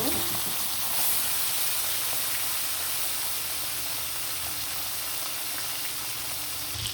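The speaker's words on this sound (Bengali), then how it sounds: "এখন বাইলা মাছগুলো খুব সুন্দরভাবে চলে ভাজি করে নেব সবগুলো বাইলা মাছ সুন্দর করে দিয়ে দিব" Baila fish fry in a pan of hot oil with a loud, close, continuous sizzle and hiss. A few spatters and stirring sounds break through now and then.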